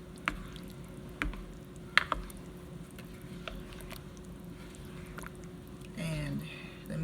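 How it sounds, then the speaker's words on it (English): Beef being stirred into sauce in a crockpot for beef stroganoff gives soft, wet squishing and dripping sounds, mostly faint and intermittent, with a slightly louder stretch of squelching stirring near the end. "I'm gonna stir my meat in."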